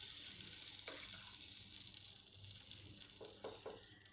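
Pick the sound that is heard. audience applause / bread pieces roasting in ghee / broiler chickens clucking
bread pieces roasting in ghee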